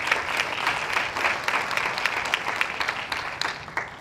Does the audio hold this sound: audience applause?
yes